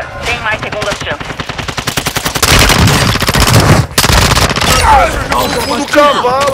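Rapid automatic gunfire from a Call of Duty Warzone 2.0 Resurgence match, with bursts of machine-gun fire running almost continuously, loud and close, and a brief pause partway through.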